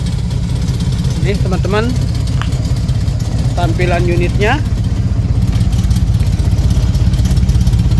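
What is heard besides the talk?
Daihatsu Hi-Jet 1000 (1986) engine idling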